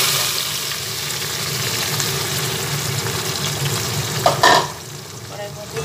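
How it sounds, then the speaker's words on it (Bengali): Marinated chicken pieces fry in a wok over a high gas flame, a loud continuous sizzle with a low burner rumble beneath and a brief knock of utensils near the end. "কড়াইয়ের মধ্যে দিয়ে মাংসটা অল্প করে ভেজে নেব।"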